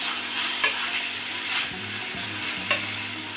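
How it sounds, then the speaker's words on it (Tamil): Shredded cabbage sautéing in a pan for a simple thuvaiyal, a steady close sizzle with a few brief scraping stirs, no talking. "இதையும் நம்ம ரெண்டுலேருந்து மூணு நிமிஷத்துக்கு நல்லா வதக்கிக்குவோம்"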